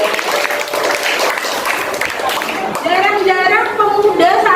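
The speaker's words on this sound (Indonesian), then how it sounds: "Kita beri tepuk tangan dong." Students clap together in a classroom during a discussion session, a broad wash of applause through most of the stretch, with a voice speaking over the clapping toward the end.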